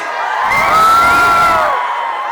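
An outdoor Eid crowd in Trafalgar Square cheering and whooping loudly, swelling for about a second before fading, with high excited voices in the mix.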